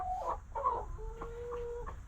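Broody hens cluck and murmur as they are lifted out of a nesting box, several short nearby calls and a drawn-out tonal note over a low rumbling background.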